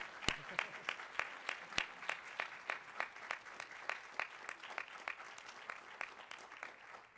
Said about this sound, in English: another round of applause for Lydia.